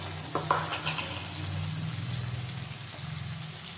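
Mango pickle sizzles and spatters in a pan over raised heat while a spoon stirs it, a steady frying hiss with soft scraping strokes, fairly quiet and close.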